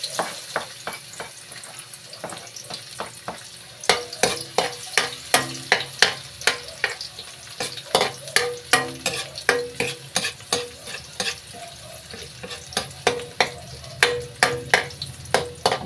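Garlic fries in a pan while being stirred, a continuous sizzle broken by repeated scraping strokes of the utensil that grow louder and more rhythmic partway through, with no talking.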